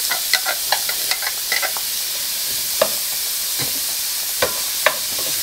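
Garlic and onion sizzle steadily in a pan for shrimp with broccoli, a continuous soft hiss broken by scattered sharp clicks and scrapes of a utensil stirring against the pan.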